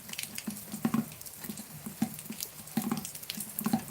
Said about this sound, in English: No one wants to hear a dripping tap for some reason.